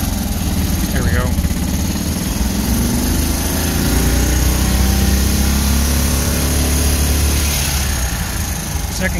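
Small single-cylinder engine of a BMW Isetta droning steadily while the microcar is driven in first gear on a test drive, close and loud throughout, with someone talking over it.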